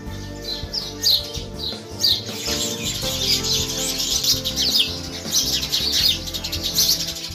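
House sparrows chirping at nest boxes built on a family home in a village, a dense, busy chorus of many overlapping tweets and calls that continues throughout without pause.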